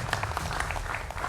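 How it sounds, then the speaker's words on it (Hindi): Studio audience applause for guests and a gathering of saints, a steady, dense wash of clapping hands lasting about a second, moderately loud and without a break. "जोरदार तालियां हमारे मेहमानों के लिए, जोरदार तालियां हमारे साधु संत समाज के लिए"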